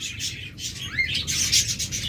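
A pair of lovebirds chirps in quick, high, scratchy bursts close by, one rising whistle-like note standing out midway, with a steady rustling underneath and no voices.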